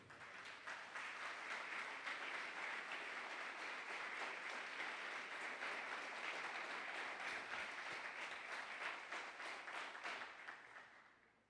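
A church congregation claps steadily for about ten seconds, a dense, even wash of applause that fades at the end.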